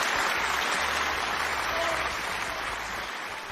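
A round of audience applause, loud and continuous with a slight fade toward the end, some talk faintly mixed in.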